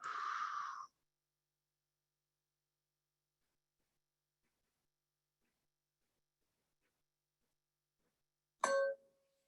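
A meditation bell is struck once near the end of a long quiet stretch, giving a short, clear ding. A brief burst of softer noise comes at the start.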